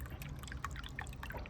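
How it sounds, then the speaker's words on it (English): Water trickles and drips steadily in a homemade garden water feature, a close, continuous patter of small droplets with no talking over it. "If you can hear water trickling, I made this yesterday."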